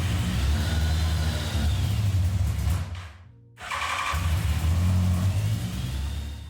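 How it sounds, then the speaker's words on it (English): A 40-year-old carbureted motorcycle engine rumbles close and steady, cuts out briefly midway, then catches and runs again with a throaty idle. "This is the bike with the old carburetors managed to start."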